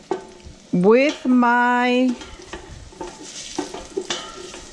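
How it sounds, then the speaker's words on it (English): Garlic browning in a frying pan, stirred with brief scraping and soft sizzling under a man's speech, with a loud tonal squeal near the start and clinking utensil sounds throughout. "We're gonna start browning our garlic."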